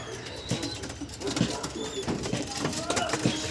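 Pigeon coos in a loft of fancy flying pigeons, soft low rhythmic calls repeating near the listener amid wing flutters and other bird chirps, with someone talking over them.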